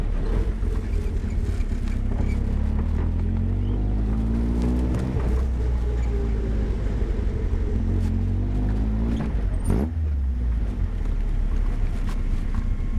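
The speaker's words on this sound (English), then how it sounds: "here it comes on his return. The little 2-litre Striker" A small MK Sportscars Striker with a 2-litre engine drives past on its return run, engine note rising and falling in pitch as it nears and passes, over steady wind and outdoor rumble.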